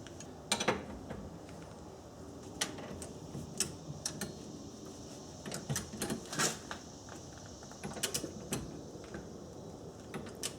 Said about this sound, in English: 115 foot-pounds, the wrench clicks and we know we're in good shape